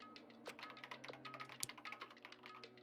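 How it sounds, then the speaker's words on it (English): Computer keyboard typing from the video game Danganronpa: a quick run of light key clicks in irregular bursts, close and moderately loud, over a faint steady background hum, with no talking. "Kyoto's fingers glided across the keyboard."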